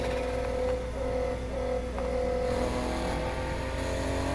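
A loud car engine drones and revs in short repeated surges, close and continuous, with no voices.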